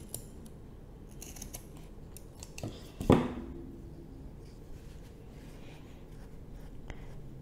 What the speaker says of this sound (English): I'll just use some scissors and cut the top here